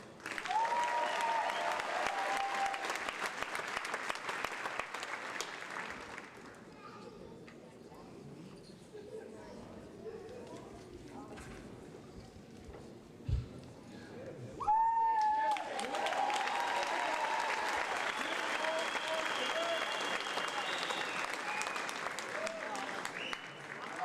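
A large crowd applauds at a high school class of 2019 graduation ceremony, sustained clapping that thins in the middle with a brief thump, then swells again loudly, with a voice briefly heard.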